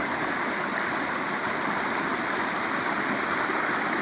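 A small stream of water spills steadily at a waterfall, producing a loud, continuous rushing hiss with no voices.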